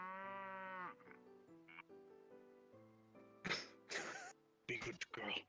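A cow in VRChat gives one drawn-out moo at the start, followed by quieter low tones and then several sharp, noisy bursts.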